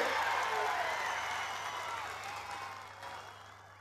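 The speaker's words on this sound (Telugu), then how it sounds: "పెద్ద ఎత్తున చప్పట్లతోని శ్రీ రాహుల్ గాంధీ గారికి స్వాగతం పలకండి" A rally crowd applauding to welcome Rahul Gandhi, a dense burst of clapping that starts strong and gradually fades over a few seconds, with a voice faintly audible beneath.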